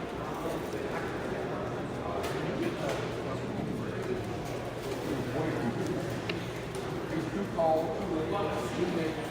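Chinese owl pigeons coo softly in pens at a national young bird show hall, low murmuring calls scattered under steady crowd chatter and someone talking close by.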